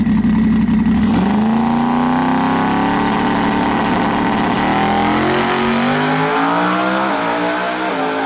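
A 2,000hp Ford Coyote-engined race car revs hard and loud, its engine note climbing steadily in pitch through a sustained high-RPM pull with no talk over it.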